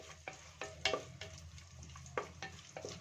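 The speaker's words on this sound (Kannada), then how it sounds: "ಚೆನ್ನಾಗಿ ಸ್ವಲ್ಪ ಫ್ರೈ ಮಾಡ್ಕೊಳ್ಳೋಣ ಹಸಿಮೆಣಸಿನ್ಕಾಯಿನ" Green chillies fry in a pan for North Karnataka biranji rice, with a soft background sizzle broken by several sharp scraping stirs of a spoon, fairly quiet and close, no talk.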